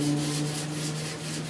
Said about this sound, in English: now we're going to sand the drip rail, and I think for that I'm going to use my little block